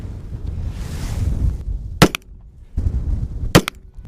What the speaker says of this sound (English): let's throw 5 shots